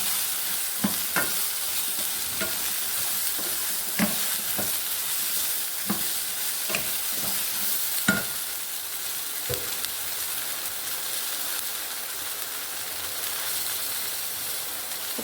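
Chopped tomato frying in a pan for a Tamil home dish, a loud constant sizzle broken by repeated scraping stirs of a spoon, no talking.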